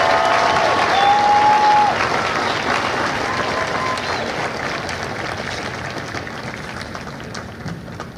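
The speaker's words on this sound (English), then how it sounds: "Ladies and gentlemen, please join me in a round of applause for the company staff of Company D." Audience applause at a Marine Corps Recruit Depot San Diego graduation ceremony for Delta Company, a sustained wash of clapping from a large crowd outdoors that slowly fades.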